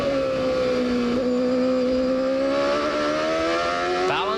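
A CART IndyCar engine screams onboard at Laguna Seca, a loud, steady high-pitched howl holding nearly constant revs, with a brief shift and a rising pitch near the end.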